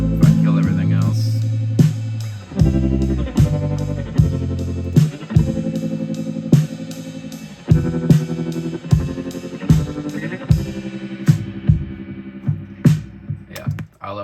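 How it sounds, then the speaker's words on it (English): A Gretsch electric guitar with tremolo effect plays a soloed chorus part, rhythmic plucked chords pulsing with wavering sustain, steady and close without any talk. "The tremolo Gretsch guitar that I added just for the choruses"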